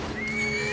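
A horse gives a brief whinny in the video game Metal Gear Solid 3, a short rising neigh over a bed of game sound.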